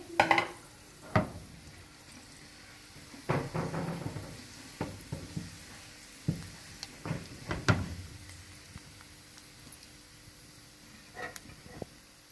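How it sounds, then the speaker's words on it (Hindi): Cumin seeds fry in hot oil for a tempering for kadhi pakora, a soft, low sizzle broken by scattered clinks and knocks of a stirring spoon against the pan. "तो जीरा डाल देंगे इसमें और 1 से 2 मिनट जो है वो बस इसको होने देंगे।"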